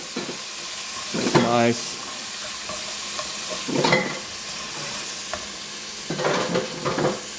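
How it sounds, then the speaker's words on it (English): Vegetables and rice stir-fry in a hot pan for healthy pad thai and fried rice, with three distinct bursts of scraping, tossing sizzle over a steady low hiss and a brief spoken word. "we'll just start to basically stir fry it"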